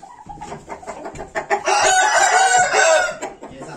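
Chickens cluck and a rooster crows close by, with a louder burst of crowing in the middle of the clip and no speech over it.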